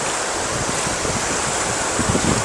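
Ocean waves at Boracay beach on a fairly calm day roll in as a continuous wash of surf, with gusting wind buffeting the microphone throughout.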